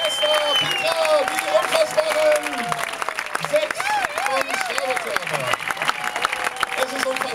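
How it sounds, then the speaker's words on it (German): Audience applause at a birthday song performance, clapping running throughout beneath loud cheering voices and shouts, dense and close. "Ein Applaus!"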